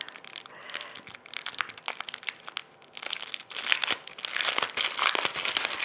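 A package of craft stamps being opened, its plastic wrapping crinkling and crackling in irregular close bursts that grow louder toward the end, with no talking.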